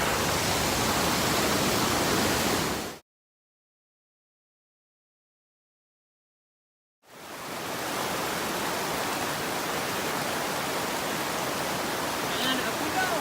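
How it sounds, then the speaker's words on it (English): A waterfall beside the Donut Falls hiking trail near Salt Lake City roars as a steady broadband rush. It cuts out to silence for about four seconds, then resumes at the same level. "Cute little waterfall behind me."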